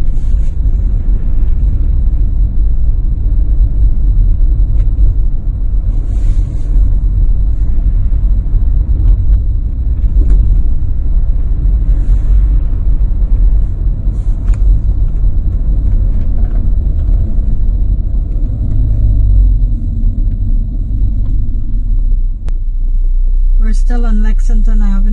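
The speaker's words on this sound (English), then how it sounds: "Driving through the neighborhood of Oyster Bay to see different parts of the neighborhoods." A car driving slowly through a residential neighborhood in Oyster Bay, Nassau County, Long Island, giving a steady loud low rumble of road and engine noise from inside the cabin, with a voice heard briefly near the end.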